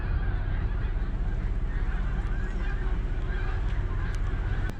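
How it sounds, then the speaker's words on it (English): A flock of geese honks overhead outdoors, repeated calls carrying over a steady background rumble, moderately distant. "look at these geese"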